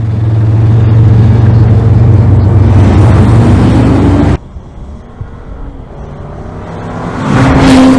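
A 2026 Audi RS5 plug-in hybrid's 2.9-liter twin-turbo V6 roars loudly with open exhaust flaps, then cuts abruptly to a quieter idle burble before revving hard again at the end.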